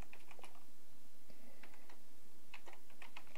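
Keys tapped on a computer keyboard while entering C++ code, light clicks in irregular bursts at close range, fairly quiet with no talking.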